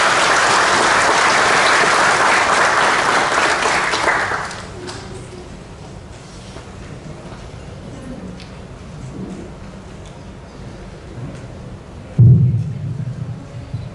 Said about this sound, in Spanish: Recibimos entonces con un fuerte aplauso.